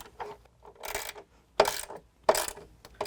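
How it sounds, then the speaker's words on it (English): Ratchet with a 13mm socket tightening bolts on Morimoto LED fog lights on a Ford F-150, short bursts of close clicking ratchet strokes separated by brief pauses, no talk. "I like to get both of the bolts started and then tighten them down."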